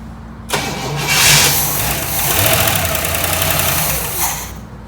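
1966 Chevrolet Caprice engine cranking and catching, then running loud and rough with a surge in revs before settling into an uneven idle with lifter ticking.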